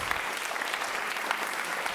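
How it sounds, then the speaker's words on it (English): Crowd applause for logo competition entries at the Solskogen 2018 demoparty prizegiving, a continuous, even roar of many hands clapping throughout, fairly loud and steady. "some applause for these entries as we move towards the first place"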